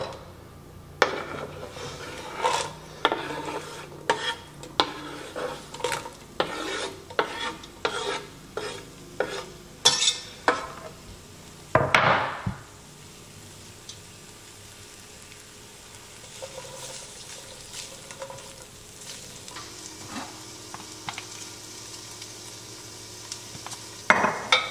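Onions frying in butter and oil in a pan, stirred with a utensil: repeated scraping and stirring strokes over a steady soft sizzle, nearby, with a sharp clatter midway and a quieter simmering stretch afterward.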